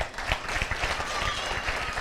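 Audience clapping at a Tamil public speech event, dense and steady across the whole stretch, with scattered individual claps standing out near the front.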